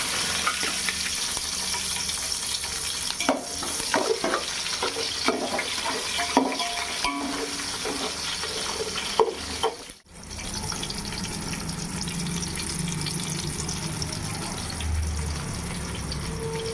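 Crushed shallots, garlic and curry leaves frying in hot oil for a fish curry, a steady crackling sizzle with irregular scraping stirs in the first half, then a smoother even hiss.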